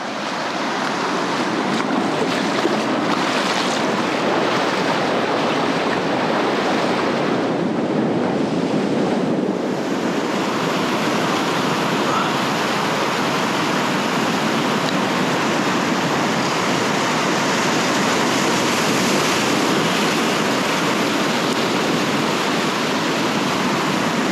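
A river swollen with dirty rainwater rushes in a steady, loud, unbroken roar with some wind buffeting, no voices.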